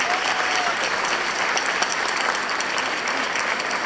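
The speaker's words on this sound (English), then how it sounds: "Let's give them a round of applause." A large crowd applauds at the Woodlands Middle High School class of 2025 graduation ceremony, a continuous wash of clapping hands at steady volume, with faint murmurs from the audience mixed in.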